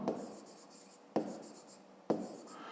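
Pen or pencil writing a math answer on paper, three short scratchy bursts each starting with a sharp tap, close and quiet with no talking.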